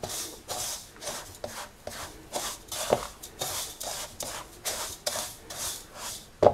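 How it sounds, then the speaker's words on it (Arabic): Dry basbousa ingredients being stirred together in a bowl, a steady rhythm of soft scraping, rubbing strokes repeating about twice a second, close and moderately loud with no voices. "نقلب المكونات الجافه دي مع بعض كده، نخلطها كويس"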